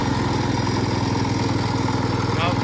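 A Cub Cadet 122 garden tractor, its mower deck removed, runs with a steady, close, throbbing single-engine drone that holds an even pace throughout.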